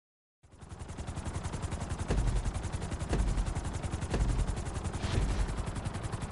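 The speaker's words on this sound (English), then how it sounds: "we're gonna put you in a helicopter for this lesson" A helicopter in GTA 5 spins up from silence into a steady, loud rotor chop with a rapid pulsing beat that carries on without pause, no talking.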